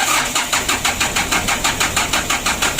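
A rebuilt Mitsubishi 4D34 diesel engine cranks and turns over with a loud, rapid, evenly pulsing mechanical chug, close up and steady throughout.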